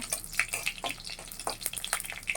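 Dry red chillies fry in hot oil in a pan, giving sparse, sharp crackles and pops that come in quick irregular bursts over a quiet background.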